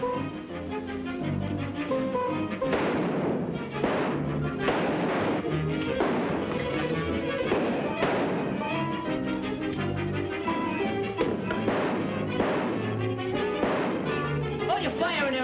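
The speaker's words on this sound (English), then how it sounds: "Shoot the lock. Shoot the lock." Rapid, loud gunshots are fired at a locked door in an old horror-comedy film, with dense bursts of shots continuing throughout alongside other movie sound.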